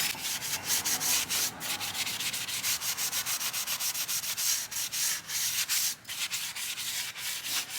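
Steady back-and-forth scrubbing of a car wheel rim with a scouring pad to loosen stuck dirt before painting, a close, dry rhythmic rasp repeating about twice a second with no talk.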